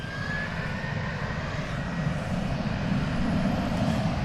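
An American Airlines jet airliner takes off from DFW bound for Los Angeles, its engines producing a continuous, dense roar with a faint high whine, steady and moderately loud throughout.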